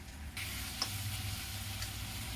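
Cooked urad dal poured into a hot kadhai on the stove: a steady, close sizzle and hiss after a soft start, with a faint clink from the utensil, and no talking.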